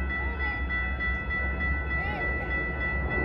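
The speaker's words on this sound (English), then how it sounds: "Train number 2229 to Franklin Park is now arriving." A Metra commuter train on the Milwaukee West line pulls into Franklin Park station with a steady low rumble and hum, while an automated platform announcement plays over it.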